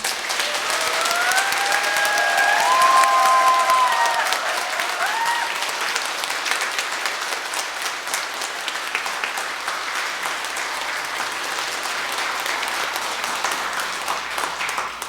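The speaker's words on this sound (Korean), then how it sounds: "신부님의 새로운 시작을 위해서 박수 한번 보내드립시다" A church congregation at a Sunday Mass farewell ceremony for their departing priest bursts into loud, sustained applause that fills the hall and holds steady throughout before easing slightly toward the end.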